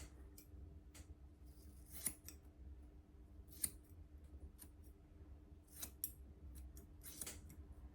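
Scissors snipping through hair during a home haircut, with sparse, crisp snips spread irregularly across a quiet, close room, each cut short and distinct.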